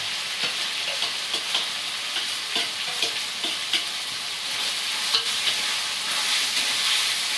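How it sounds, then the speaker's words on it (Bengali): Chicken with spice paste stir-fried in a pan, a steady loud sizzle throughout with scraping stirs of the spoon recurring roughly every half second, close by and with no talk. "আবারও এটা কষা করছি মিনিট 2 মতো।"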